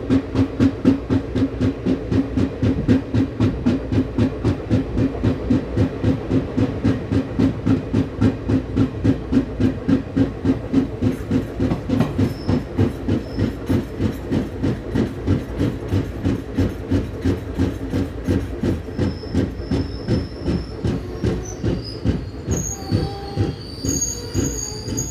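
The 14230 Haridwar Express rolls steadily along the rails with a continuous rhythmic clickety-clack of wheels over joints, joined by a squeal of wheels and faint high tones later in the run.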